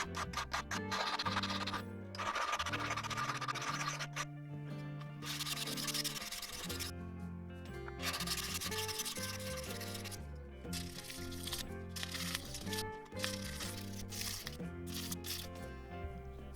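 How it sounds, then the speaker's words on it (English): A soldered gold spinner ring is filed and sanded by hand, a close, steady series of rough scratching strokes in repeated bursts with short pauses between them. "And then file the surface as well as sand down the inside."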